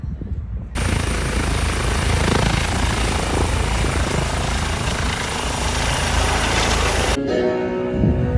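On the Olympic Peninsula, Washington, a loud helicopter taking off roars up abruptly and holds a heavy, steady rotor and engine drone for several seconds before cutting off.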